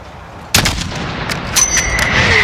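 Mortar and gunfire in the Call of Duty Modern Warfare campaign: a heavy blast kicks off a dense battle bed of distant rifle cracks and rumbling impacts, with faint whistling tones above.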